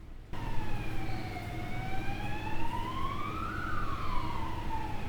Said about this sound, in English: I'm guessing those police sirens are in real life and not in this.